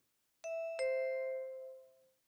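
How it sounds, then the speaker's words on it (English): A clean electronic two-tone doorbell chime in the video game Tsukihime Remake, ding then dong, ringing out alone and fading away in silence. "But I press the doorbell."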